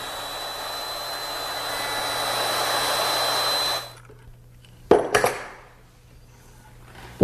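Handheld router whining steadily at high speed as it cuts dovetail pins in a board along a template, then spinning down, followed by a few sharp knocks and clatters, close and loud.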